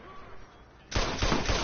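Gunfire in the video game Watch Dogs: a quiet stretch, then a sudden dense burst of rapid shots that keeps rattling loudly to the end.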